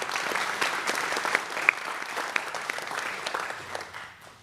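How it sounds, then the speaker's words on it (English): Audience applause fills a Lancaster County Academy graduation ceremony for the class of 2025, a dense, steady clapping from a large crowd that gradually fades out. "So let's have a round of applause for them."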